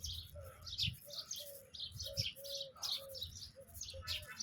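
Sparrows chirp and tweet in quick, repeated bursts while being fed grain, a lively nearby chatter of several birds with softer cooing calls underneath and no talking.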